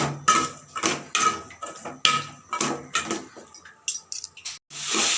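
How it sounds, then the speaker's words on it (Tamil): Tomato and grated coconut are sautéed in oil in a pan for mutton curry. A utensil scrapes and clinks against the pan in a steady, rhythmic series of close, fairly loud strokes. "எண்ணெய் ஊற்றி அப்படியே வணக்கிக்கலாம் நல்லா வணக்கிக்கலாம்"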